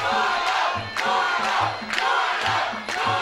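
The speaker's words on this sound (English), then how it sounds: "the crowd is chanting Julio's name." Large fight-night crowd at a TSK arena chanting a fighter's name in a steady rhythmic pulse, loud and continuous, with roughly two-beat chant phrases repeating about every half second over a dense roar of voices.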